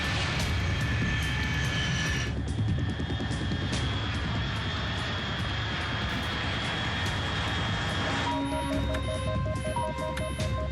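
Aircraft engine roar in the video game Metal Gear Solid 3, a loud, steady drone filling the whole stretch with continuous broadband rumble, joined near the end by a pulsing electronic tone.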